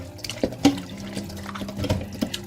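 Boiled vinegar water is poured onto raw chicken breast in a home kitchen, a short light splash with a few soft drips and trickles, close by and fairly quiet, with no talking.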